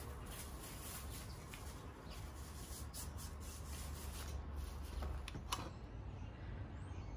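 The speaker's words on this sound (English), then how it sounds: "some of that is just drill bit chatter" A drill bit chatters and rasps while cleaning out the pritchel hole of a Holland anvil, a steady close grinding noise with a few sharper scraping bursts near the end before it cuts off.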